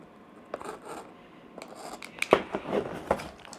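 Tape on a Jada Toys Classic Ryu figure box being cut, heard as a series of close scratchy snips and rubbing sounds spread unevenly over a few seconds, with no talking.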